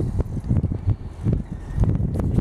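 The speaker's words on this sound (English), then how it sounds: "we have a little bit of wind today" Gusty wind buffets a microphone outdoors beside a parked 1973 Dodge Challenger 440 big block, a steady low rumble swelling and easing in repeated bursts with some rustling.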